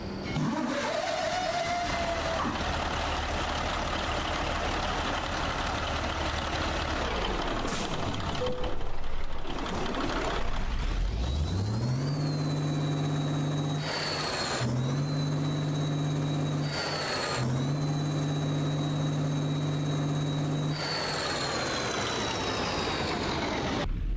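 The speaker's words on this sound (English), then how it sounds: "Let's waste no time and start this truck up." Truck engine cranking and starting in American Truck Simulator, a Johnny Cash engine sound set on an Edison school bus, rumbling up to a steady idle with whining tones and brief revs, loud and alone.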